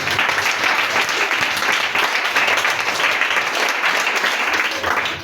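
A church congregation breaks into sustained, dense applause filling the room at full volume, with some faint voices mixed into the clapping throughout.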